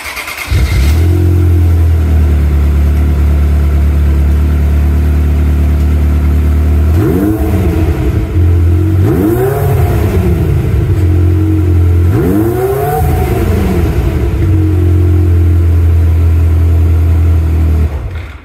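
Ferrari F355 engine on its standard exhaust, idling with a steady low drone and then revved sharply three times in quick succession, each blip rising and falling loudly before settling back to idle.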